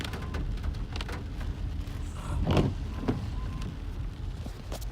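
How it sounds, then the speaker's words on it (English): Steady rain patters down around a vehicle rolling slowly along a potholed rural driveway, a soft continuous hiss with low rumble and a few creaks, no talking. "It's raining."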